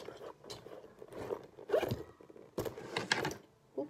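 Zipper on a small pouch pulled in several short, scratchy strokes at close range, with quiet rustling between the pulls.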